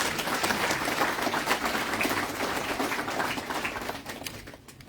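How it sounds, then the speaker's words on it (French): An audience at an agricultural ministry ceremony applauds the ambassador, dense steady clapping from many hands that thins and fades toward the end. "On va continuer d'applaudir très fort son Excellence, Monsieur l'ambassadeur."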